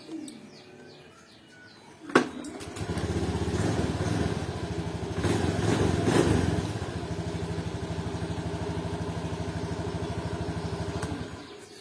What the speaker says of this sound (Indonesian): pasang penutupnya dan motornya dihidupkan